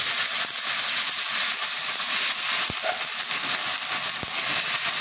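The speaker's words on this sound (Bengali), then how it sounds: "আমার আদা রসুনটা কিন্তু ভালো করে ভাজা ভাজা হয়ে গেছে পেঁয়াজের সাথে।" Ginger-garlic paste frying with browned onions in a pan, a loud, dense, continuous sizzle with a couple of faint stirring taps, no talking.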